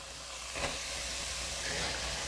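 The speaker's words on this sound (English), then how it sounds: "It's time for me to add our onions." Chopped onions hit hot fat in a pot for a Bahamian pumpkin soup with ham and turkey, giving a soft, steady sizzle and hiss with a brief burst as they go in, fairly quiet and with no talk.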